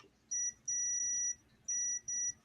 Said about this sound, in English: Now when there's continuity, it just goes beep, beep.